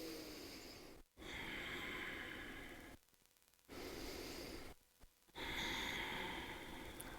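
Slow, deep breaths during a yoga stretch, each long airy inhale or exhale separated by brief near-silent pauses, faint and close to the microphone.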